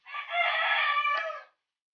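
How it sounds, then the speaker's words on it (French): A rooster crows once, a single sustained call of about a second and a half, fairly close and clear with nothing else heard, while dough for puff couscous pastries is being worked in a kitchen. "Et il y a un coq qui n'arrête pas de chanter."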